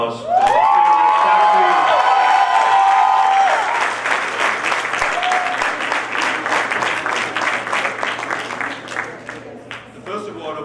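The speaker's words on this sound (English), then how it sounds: "Guys, one more big round of applause." Loud audience applause with cheering and whoops fills a convocation awards session, beginning with a held tone and continuing as dense, steady clapping from a large crowd.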